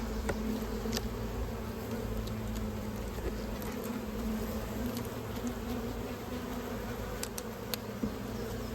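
A dense, steady drone of many honey bees buzzing up close around hive frames in a nuc, constant and unbroken, with occasional faint clicks and knocks.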